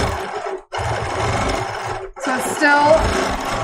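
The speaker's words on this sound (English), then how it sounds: "Okay, I'll quilt." A Bernina Q20 sewing machine quilting on a horn lift table, a fast steady stitching whir in bursts separated by short pauses, close and loud, with a person speaking briefly.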